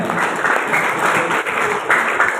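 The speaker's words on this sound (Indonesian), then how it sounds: "Tepuk tangan dulu untuk SMA Akolia." A high school assembly crowd applauds steadily, a dense wash of clapping that stays loud and even throughout.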